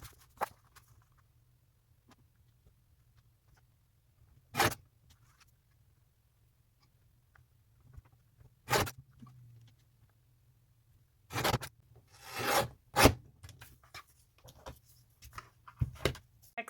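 Scissors cutting through packaging card for a gift card holder, heard as a few short, separate snips and crisp rustles spaced apart, close and clear against a quiet room.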